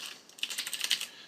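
Quick, light clatter of computer keyboard keys as JavaScript code for a todo application is written, a short run of soft close taps without any speech.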